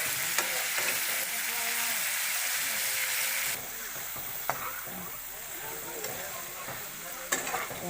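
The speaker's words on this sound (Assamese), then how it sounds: "মই 5 মিনিটৰ কাৰণে লৰাই আছোঁ" Small shrimp and tomatoes stir-fried in a pan give a steady, loud sizzle from start to finish, with scrapes and clinks from stirring scattered throughout and the frying easing slightly about halfway through.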